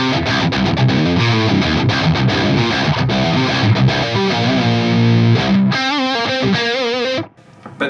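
Electric guitar with a P90 neck pickup and humbucker bridge pickup combined plays a dense, loud, overdriven riff of quick chord hits, ending with a few ringing notes that cut off near the close.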